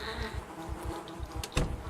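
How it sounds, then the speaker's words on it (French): Flies buzzing in the zombie survival game Project Zomboid, a close, continuous insect drone with pulsing low swells and a brief louder flurry near the end, no talk. "toutes les mouches de partout là"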